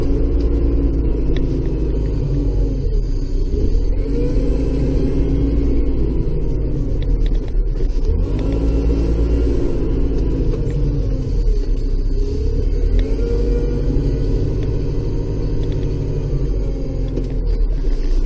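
A tractor engine runs steadily while blowing snow during the first snowfall in Bay Roberts, Newfoundland: a loud, continuous low rumble with slight rises and dips in load, close by, with no talking.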